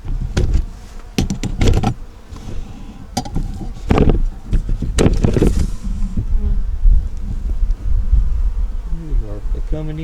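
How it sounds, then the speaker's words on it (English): Honeybees buzz around the bottom of a hive while a beekeeper hunts for a virgin queen, a dense close hum with sharp knocks and handling noises, plus a brief murmur of voice. "Let's see what we can do here with the bees on the bottom."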